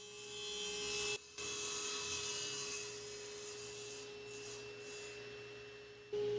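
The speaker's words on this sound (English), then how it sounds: "set that up on my taper sled on my table saw in order to cut those" Table saw with a taper sled ripping white oak bench legs, a steady loud whine with a strong tonal hum that drops out briefly near the start and returns at the end, no talk.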